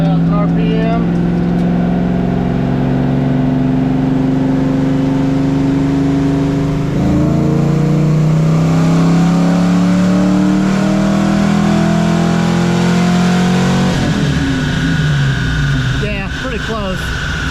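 Fox body Mustang engine fitted with a bolt-on part revs steadily up toward 3000 RPM and holds there, a loud, close, continuous drone with its pitch stepping up partway through, no talk over it.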